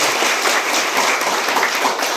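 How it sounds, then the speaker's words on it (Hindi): A crowd at a village water-mission gathering applauds for the village head, a continuous dense wash of clapping, fairly loud and even for the whole stretch, with no speech over it. "तो एक बार जोरदार तालियां इसके लिए।"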